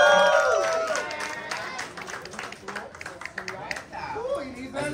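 Audience applause for a performer at an Israeli comedy show: a dense patter of clapping and crowd noise that fades slightly, with voices talking over it throughout.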